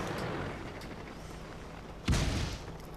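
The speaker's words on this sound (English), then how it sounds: "That is their team shooting at me." Tank gunfire in the World of Tanks video game: a low, muffled background rumble, then one sudden loud boom that lingers and decays.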